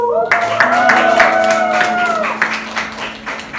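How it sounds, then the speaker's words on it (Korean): Youth congregation at a Sunday church service clapping together, sustained hand claps over held musical tones and voices, with people talking during it. "와 박수."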